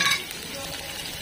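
Vegetables sizzle and hiss in a hot pan as they are stirred, a steady frying crackle close by.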